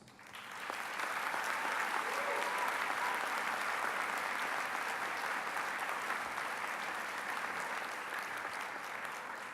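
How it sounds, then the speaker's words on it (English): A graduation audience at a university commencement ceremony applauds in a long, dense, steady wash of clapping from a large crowd, heard from a distance. "recognize them with a rousing round of applause"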